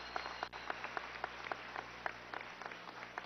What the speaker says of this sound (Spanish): Un aplauso al grupo musical que nos recibió